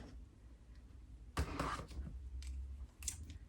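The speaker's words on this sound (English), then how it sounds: "let's go ahead and cut this open" A 2026 Planner Envy Signature Layout planner package is cut open, a short rough burst of slicing and crinkling packaging after a quiet, steady stretch, with a few faint rustles following.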